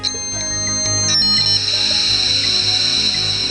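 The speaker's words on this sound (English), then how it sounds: "That's the sound of the PC's digital ones and zeros being converted into the analog frequencies" A PC dial-up modem sends data over a phone line, producing loud, sustained high-pitched warbling tones with shifting pitches and brief chirps, with no voices.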